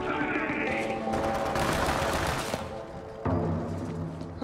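Borderlands 3 gunfire comes in loud, sustained bursts of rapid shots layered over game music and effects, with a sharp fresh burst near the end.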